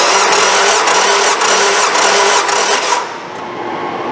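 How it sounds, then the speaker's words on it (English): Nissan 2.5 engine cranking at wide open throttle during a compression test, a steady rapid churning starter drone that runs loud and close for about three seconds, then cuts off to a quieter hum. "Go ahead, crank it, Des."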